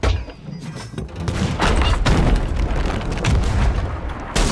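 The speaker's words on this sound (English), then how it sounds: "someone's shooting cannons" Ship cannons fire in the pirate video game Sea of Thieves, a dense run of loud, booming blasts and thuds overlapping one another for several seconds with no pause.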